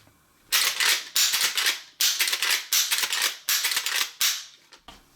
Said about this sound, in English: The lever action on this color case hardened Henry is fantastic, guys.